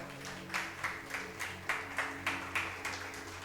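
A church congregation claps in a steady, even rhythm of quick claps over a low sustained musical drone, heard from a distance and fairly quiet.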